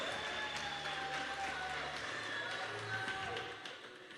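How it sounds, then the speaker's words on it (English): Crowd at a youth weekend event in the Northern Cape claps, a soft, fairly distant patter of applause with faint voices and hum underneath, fading out near the end. "Come on, give him a round of applause."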